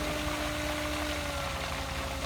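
An engine runs steadily nearby at high speed around 3000 RPM, a dense, even mechanical drone with a constant hum; the drop toward 2700 RPM is not clearly evident in this brief stretch.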